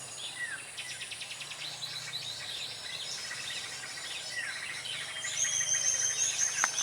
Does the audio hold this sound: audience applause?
no